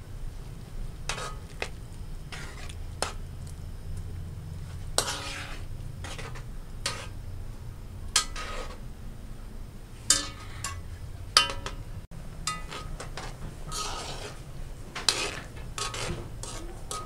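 A pan of stir-fried rice cake with onions being stirred, with repeated sharp scrapes and clinks of a utensil against the pan over a soft sizzle, evenly spaced through the clip, no talk.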